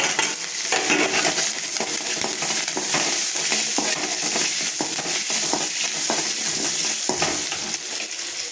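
Ginger, green chili and curry leaves frying in hot oil for lemon rice, a loud, dense, continuous sizzle with quick stirring scrapes running through it, close up.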